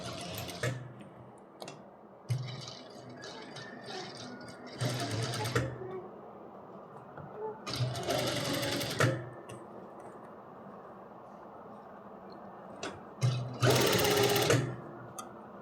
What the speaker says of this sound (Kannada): ರೌಂಡ್ ನೆಕ್ ಸ್ಟಿಚ್ ಮಾಡ್ತೀವಿ ನೋಡಿ